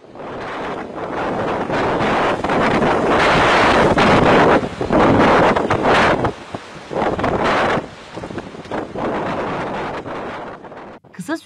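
Roaring wind buffets the microphone in loud gusts while heavy storm waves crash and surge, briefly dropping away between blasts.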